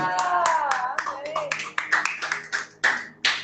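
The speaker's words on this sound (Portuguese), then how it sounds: "de uma salva de palmas" Hands clap in sharp, uneven bursts at a church service while voices sing or speak underneath, the claps standing out as distinct close smacks.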